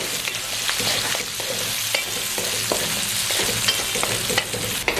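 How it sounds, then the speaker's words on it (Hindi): Chopped onions sizzle and fry in a pan for dhaba-style aloo baingan sabzi, with steady close crackling and intermittent stirring scrapes throughout, no talk. "तो अब इस मौके पे हमने जो प्याज काट के रखा था इसके अंदर डाल लेते हैं। इसको हम थोड़ा सा फ्राई करेंगे इसके अंदर।"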